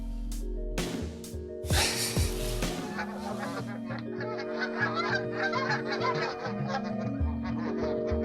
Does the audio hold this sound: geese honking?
yes